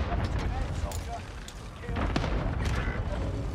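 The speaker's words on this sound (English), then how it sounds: "I called in an airstrike." Airstrike explosions in a video game, a series of heavy low booms and rumbling blasts layered over a constant deep roar, with voices talking faintly in the mix.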